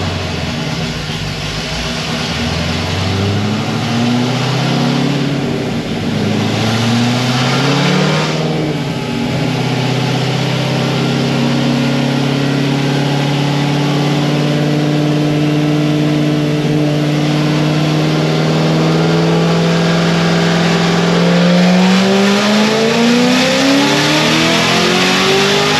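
A Corvette C6 ZR1's supercharged engine revs hard through a dyno pull, its loud note climbing steadily in pitch over the run and holding a sustained roar without pause.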